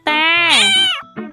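A single drawn-out cat meow in a children's Khmer alphabet lesson, rising then falling in pitch, loud and close, followed by a brief softer second call.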